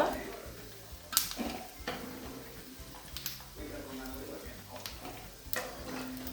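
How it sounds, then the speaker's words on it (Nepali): Mutton deep-fries in oil for a pickle, a soft sizzle broken by scattered clinks and scrapes of a utensil against the pan, under a quiet, intermittent voice. "अघि हामीले फ्राई गरिरहेको मासु चाहिँ यतिको डिप फ्राई भएपछि चाहिँ हामीले यसलाई एउटा भाँडामा निकाल्छौँ"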